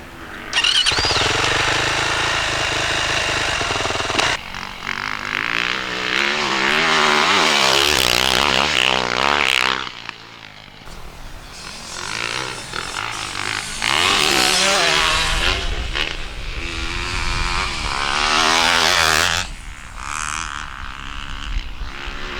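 A 2025 Honda CRF450R motocross bike ridden hard on a track howls loudly from close by. Its engine note rises and falls sharply through gear changes, with brief lulls and bursts of throttle, and nobody speaks.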